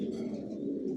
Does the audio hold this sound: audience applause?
no